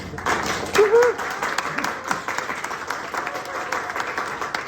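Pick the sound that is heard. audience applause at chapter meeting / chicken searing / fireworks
audience applause at chapter meeting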